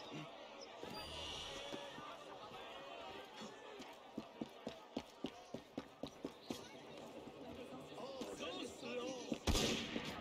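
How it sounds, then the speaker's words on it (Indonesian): Gunshots ring out in the video game Assassin's Creed Unity, a rapid series of about a dozen sharp, evenly spaced cracks over in-game ambience and a voice, ending with one louder burst. "Ada suara tembakan"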